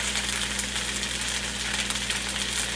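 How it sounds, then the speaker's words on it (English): Soy sauce hits a hot pan of fried rice and sizzles loudly and steadily, a dense crackling hiss that holds without a break and with no talking. "now I'm going to add another tablespoon of soy sauce"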